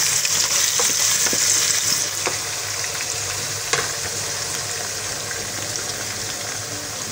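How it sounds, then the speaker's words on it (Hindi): Onion frying in hot oil in a pan for drumstick chicken, a loud, dense sizzle, strongest at first and then settling into a steady crackle, with a light stir or two and no speech. "अब मैं इसमें ना आधी प्याज डालूँगी।"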